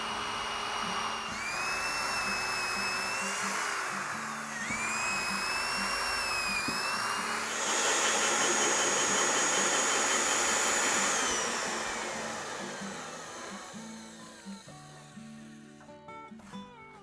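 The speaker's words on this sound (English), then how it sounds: "We're going to be drilling the guide holes with it using the laser guided drill." A laser guided drill bores 1/2-inch guide holes in a log, a loud sustained whine rising and falling in pitch over several passes before winding down, with clatter at the end.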